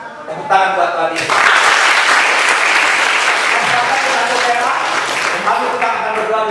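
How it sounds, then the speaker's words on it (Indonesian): Children and adults at a church holiday Bible school session break into loud, sustained clapping after a brief voice, the applause filling the room for several seconds with some voices mixed in. "tepuk tangan buat Tuhan Yesus."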